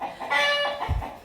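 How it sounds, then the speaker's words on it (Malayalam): A single Fayoumi chicken gives a short, close burst of clucking, a couple of quick throaty notes. "ഇത് ഒരു വിരളൻ കോഴിയാണ് കേട്ടോ"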